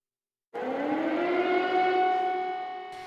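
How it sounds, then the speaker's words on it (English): An air raid siren in Ukraine rises sharply from silence into a sustained, wailing tone, steady and fairly loud, with no voices. "You may remember those air raid sirens heard around the world"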